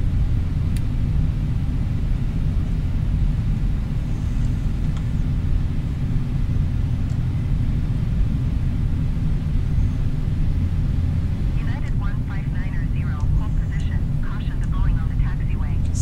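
Jet engines of a Continental Boeing 777 roar steadily as it takes off on a full-length runway at Newark in Microsoft Flight Simulator 2020. The loud, even rumble continues throughout, with a voice talking over it at times.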